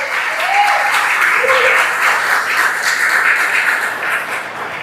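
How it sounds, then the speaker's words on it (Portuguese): A church congregation claps for Jesus during a Portuguese-language sermon, a loud, sustained, close wash of many hands that holds steady for several seconds, with a few brief voices rising through it. "Dá uma salva de palmas para o Senhor Jesus."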